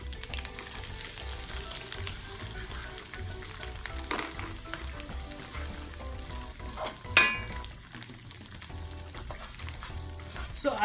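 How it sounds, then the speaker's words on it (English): Onions browning in a frying pan for chicken kofta, a steady soft sizzle and crackle running throughout, with a brief louder clatter of stirring midway. "Don't have to waste time on browning the onion."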